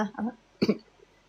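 A person clears their throat to bring up phlegm: two short, rough, voiced rasps, close and fairly loud, separated by a brief pause.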